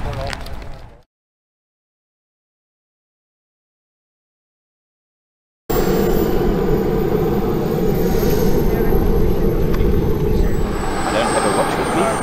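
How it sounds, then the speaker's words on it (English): Jet aircraft at an air force base fly-in at Swartkops Air Force Base: after a brief silent gap, a loud, steady engine roar fills the rest of the clip, with voices faintly present. "You go and fetch the airplane."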